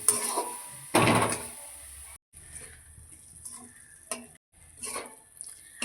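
Ground coriander and cumin masala fries in mustard oil while a spatula stirs and scrapes the pan in short, intermittent strokes over a soft sizzle.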